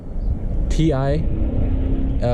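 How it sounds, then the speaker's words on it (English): A 2015 Mitsubishi Lancer Evolution X Final Edition with a Tomei catback exhaust and high-flow setup idles with a low, steady rumble beneath a voice. "So here's my exhaust."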